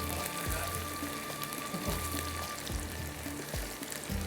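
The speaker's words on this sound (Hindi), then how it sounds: "यहाँ पर करते हैं प्याज को हम अच्छी तरह से ब्राउन, ये देखिएगा प्याज ब्राउन करके निकालेंगे" Chopped onions frying until brown for kalonji baingan, a steady soft sizzle and crackle with faint utensil taps, close and alone.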